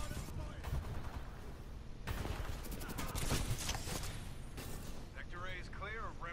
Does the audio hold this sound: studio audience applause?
no